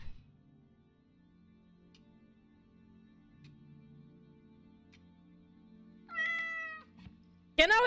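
A cat gives a short meow near the end of a quiet indoor stretch with faint ticking, followed by a sudden louder burst at the very end.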